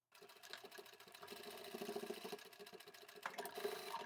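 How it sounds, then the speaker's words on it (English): Sewing machine stitching steadily through all the fabric layers of a hidden triangle pocket on a beach towel, a fast even mechanical whir with rapid needle ticks, close and moderately quiet, no voices. "we'll just close up that small section and you'll be sewing through all of the layers."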